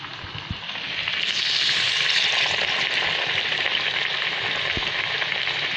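Dal vada frying in hot oil, a dense, even bubbling sizzle that swells after the first second and holds steady, with a couple of faint knocks and no voices.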